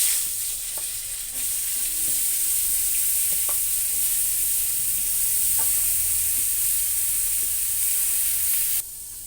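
Pointed gourd (potol) fries in a pan with a loud, continuous close-up sizzle, punctuated by soft stirring clicks and scrapes.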